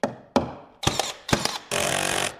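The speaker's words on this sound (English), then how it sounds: "trusty old hammer here" A hammer strikes a wooden hidden-door frame in several sharp, close knocks with short ringing decays, ending in a longer, denser burst of rattling impact noise.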